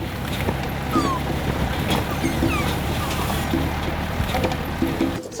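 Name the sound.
lemurs making clucking alarm calls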